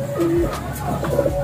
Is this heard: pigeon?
yes